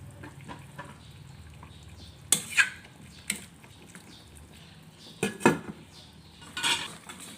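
Pot lid and metal cookware clatter during cooking of sautéed fish sinigang with bidbid head, with several sharp clanks and scrapes spaced over a quiet low kitchen background; no talking.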